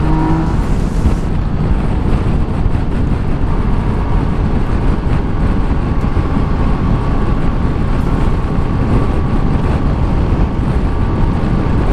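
A Yamaha Niken GT motorcycle is under way, its engine droning steadily beneath heavy, loud wind roar throughout the ride.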